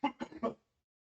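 Someone coughs and clears their throat in three or four quick, close bursts, then falls silent.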